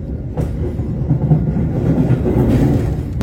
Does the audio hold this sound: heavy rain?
no